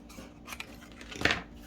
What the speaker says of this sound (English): And then cut out these corners.